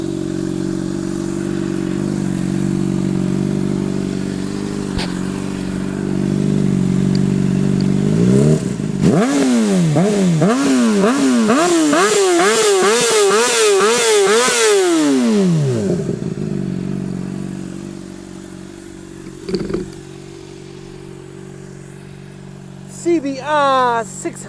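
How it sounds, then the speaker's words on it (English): A 2007-2012 Honda CBR600RR fitted with a Two Brothers Black Series slip-on exhaust idles, then revs sharply in repeated rising and falling bursts before dropping back to idle, loud and close. "Let you hear the awesome sound of the CBR600rr. The Two Brothers Black Series slip-on."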